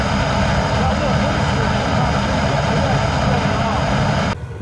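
High-temperature casting burner running without oxygen, roaring loud and continuous at close range against a concrete-lined setup, a steady broadband rush that cuts off abruptly near the end.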